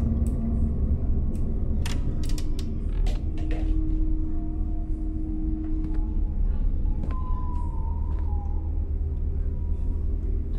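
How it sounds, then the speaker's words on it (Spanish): Faint, eerie whistling drifts through the horror game MADiSON: a few thin sustained tones, one sliding downward near the end, over a dense dark ambient drone, with scattered clicks and creaks. "Están silbando."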